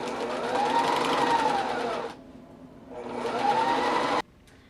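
A sewing machine runs in two steady bursts of rapid stitching along the sides of a fabric headband, each lasting about two seconds with a short pause between, loud and close with no talking.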